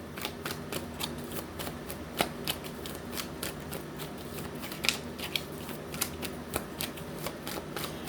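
Tarot cards shuffled by hand, a steady close riffling patter with occasional sharper snaps of cards, running continuously without talk.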